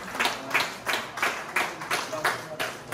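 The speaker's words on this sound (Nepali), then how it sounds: "जोरदार तरिकाले ताली बजाइदिनु होला" Audience clapping at a Nepali Language Recognition Day event in Ranka, Sikkim, a steady round of near applause with rhythmic bursts of claps over background voices.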